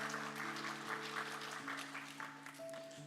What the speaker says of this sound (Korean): 같이 박수로 하겠습니다.